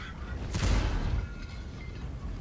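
A single heavy tank cannon blast from World of Tanks, a booming shot with a sharp crack that rolls off into a low rumble, with faint background noise.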